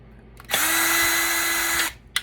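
A powered driver spins a small Torx screw out of a plastic part on an HD video camera in a single close, steady whirring burst of just over a second.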